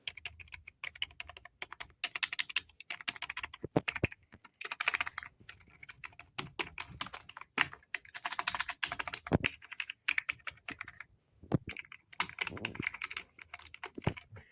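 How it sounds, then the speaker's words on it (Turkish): Keys on a computer keyboard clack in rapid, uneven typing runs with brief pauses. The clicks are close and crisp, and no voice is heard. "Tuş sesi de bu şekilde."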